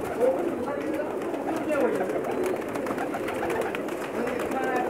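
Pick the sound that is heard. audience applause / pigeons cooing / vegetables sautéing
pigeons cooing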